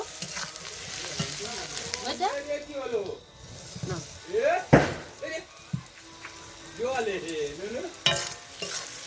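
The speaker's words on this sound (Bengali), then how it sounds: "এই তো আমি কাশ্মীরি রেড চিলি পাউডার আর লবণ দিয়ে আবারও ভালোভাবে এটাকে নাড়িয়ে নেব" Chili chicken being stirred in a pan with Kashmiri red chili powder and salt, scraping spatula strokes and a soft sizzle, with someone talking over the cooking.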